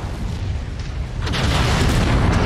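A target blows up in the mech combat game MechWarrior 5: Mercenaries, a loud, dense rumbling boom that swells midway and keeps roaring steadily without a clear break.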